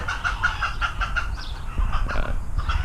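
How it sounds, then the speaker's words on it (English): Scared chickens clucking rapidly in a burst of short, repeated calls, fairly close, with some low background rumble underneath. "Chickens, that's the sound they make when they're scared."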